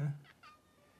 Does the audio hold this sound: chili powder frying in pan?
no